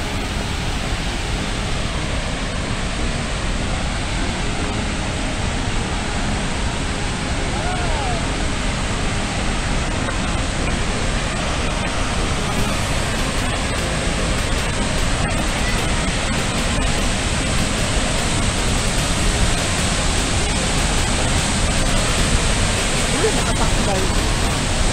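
Crescent Falls in Alberta, Canada, roars in a dense, unbroken wash of falling water, loud and steady, with no voices standing out above it.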